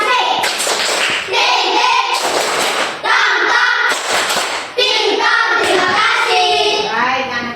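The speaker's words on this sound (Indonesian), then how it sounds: "Kita tepuk terima kasih untuk kelompok Tepuk Belanda ya." Schoolchildren in a classroom perform a rhythmic group thank-you clap, bursts of hand claps and slaps in patterned phrases mixed with children's voices chanting along.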